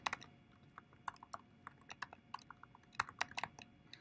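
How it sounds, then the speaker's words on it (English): Rapid, irregular keystrokes clatter on a computer keyboard, close and fairly quiet, with uneven bursts of clicks over a faint background hum. "I have to type it right."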